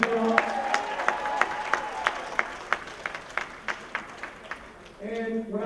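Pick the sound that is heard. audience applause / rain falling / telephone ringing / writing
audience applause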